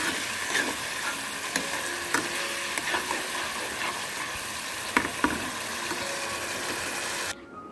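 Meat simmers in a little water in a pan, giving a steady bubbling sizzle with occasional clinks of stirring, continuous and fairly close, cutting off abruptly near the end.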